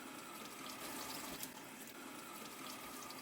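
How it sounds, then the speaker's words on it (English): Cold tap water runs continuously as silk is rinsed beneath it, a faint, steady rushing splash with no interruption. "rinse your silk under cold water until the water runs clear"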